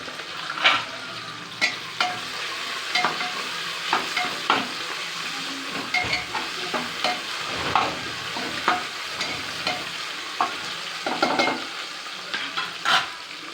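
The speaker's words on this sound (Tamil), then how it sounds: "பிரியாணிக்கு எப்போயுமே வெங்காயம் நல்லா வணங்கினா தான் டேஸ்ட்டு கிடைக்கும்" Onions sautéing and being stirred in a pressure cooker for Ambur biryani, a steady sizzle of frying broken by repeated scraping stirs at an irregular rhythm, close and moderately loud, with no talking.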